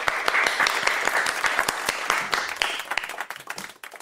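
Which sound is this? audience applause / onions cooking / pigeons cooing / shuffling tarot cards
audience applause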